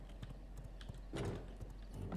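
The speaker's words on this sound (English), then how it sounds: "I'm going to go ahead and take my horse, Confirmation Bias, out of the stables," Horse hooves clip-clop in the video game V Rising as a horse is ridden out of the stables, a steady rhythmic patter of hoofbeats at moderate distance with a denser burst midway.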